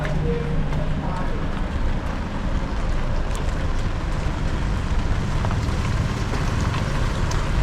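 Steady rain falls outdoors in a parking area at Big C Chiang Mai, a constant dense hiss with scattered sharp drips, while someone talks over it.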